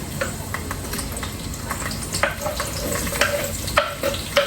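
Onion dropped into hot oil with bay leaf and whole spices, sizzling and crackling in a pan with intermittent stirring scrapes, steady and close throughout.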